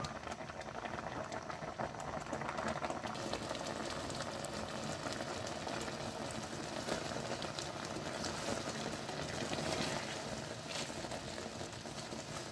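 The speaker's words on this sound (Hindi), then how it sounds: "अब दूध को खुश्क होने तक पकाएं, जब तक ये शीरा ना बन जाए।" Milk for carrot murabba boils down in a pot toward a thick syrup, with a continuous bubbling and popping that stays fairly quiet and even throughout and has no voice over it.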